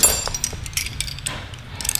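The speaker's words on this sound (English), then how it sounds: "Husky 1/2-inch Husky ratcheting wrench. 5/8 Husky ratcheting wrench." Husky ratcheting wrenches being handled, giving a run of light metallic ratchet clicks and clinks, close and moderately loud, with no talking.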